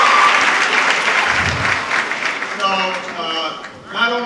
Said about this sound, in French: je crois que Grace mérite d'être chaleureusement applaudie